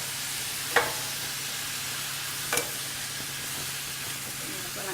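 A vegetable stir fry with black bean sauce and broth sizzles in a pan while it is mixed, with a steady frying hiss and two sharp utensil scrapes against the pan.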